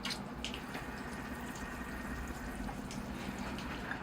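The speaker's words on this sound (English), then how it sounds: "here I go with the water" Water poured over a freshly repotted Chinese privet bonsai, a continuous soft splashing and trickling into the soil with scattered drips, steady and close throughout.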